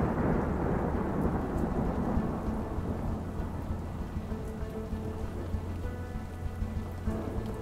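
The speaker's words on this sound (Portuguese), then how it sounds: "Um dia, uma tempestade muito forte chega." A strong thunderstorm with steady heavy rain, a dense continuous wash of rainfall with low thunder rumbling underneath, loud and unbroken throughout with no voices.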